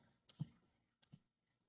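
Two quick pairs of soft clicks from a computer mouse being double-clicked, close and quiet with silence between them.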